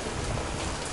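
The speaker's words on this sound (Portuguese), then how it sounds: "Ei, tá chovendo!" Rain beginning to fall outdoors in a backyard, a steady broadband hiss of drops on surfaces with low rumbling underneath, continuous and fairly close for the whole second, no voices.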